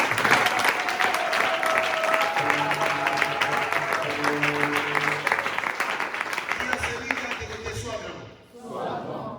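A church congregation claps and cheers for Jesus during a Kaïros ministries service, steady dense applause with loud musical tones underneath, fading out near the end.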